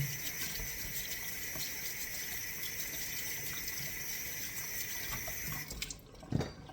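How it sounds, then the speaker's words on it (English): Kitchen tap water runs steadily into a sink while potatoes are being scrubbed for a beef shepherd's pie, a close, continuous splashing hiss that stops shortly before the end, followed by a brief clunk. "You hear the water running, but you don't see me because I'm doing the potatoes."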